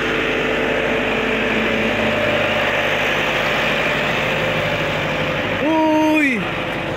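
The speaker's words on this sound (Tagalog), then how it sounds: "Ito na yung traktora." Tractor engine running on its first day in a sugarcane planting field, a steady low idling rumble that swells briefly near the end with a rising and falling whine.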